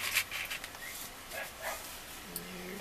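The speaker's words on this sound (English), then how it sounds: "So if you hear barking, that's Pepper's mad" Pepper, a dog shut inside a room, barks and yips in muffled, slightly distant bursts, with faint talk nearby.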